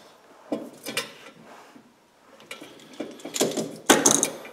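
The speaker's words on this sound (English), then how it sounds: "Put the drowning lock on and then close it." Metal clinks and clicks as a drowning lock is clipped onto a beaver trap swivel, several short, close jangles and snaps ending in a sharper click.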